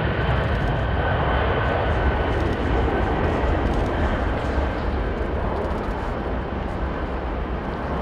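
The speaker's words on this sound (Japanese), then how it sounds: "ジャンボ機が迫力の着陸復興タッチアンドゴーを披露しました" An ANA Boeing 747-400D jumbo jet makes a touch-and-go landing, a loud continuous roar of jet engines that stays steady and strong throughout.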